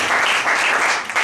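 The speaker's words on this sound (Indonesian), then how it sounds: "Yang sepakat tepuk tangan yang terbaik." A church congregation breaks into applause, a short, dense burst of many hands clapping together, steady and fairly loud with no speech over it.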